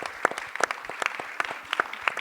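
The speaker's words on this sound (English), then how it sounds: "Give these folks a round of applause." Scattered applause from a small audience welcoming two guests at an event, a handful of distinct hand claps spread irregularly rather than a full ovation, moderately near and fairly quiet.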